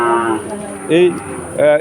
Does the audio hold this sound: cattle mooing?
yes